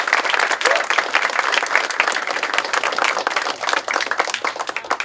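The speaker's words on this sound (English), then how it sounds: "Everybody give a round of applause for Andrew." A panel audience at Dragon Con claps for a volunteer, dense sustained applause filling the whole stretch, with crowd voices mixed into the clapping.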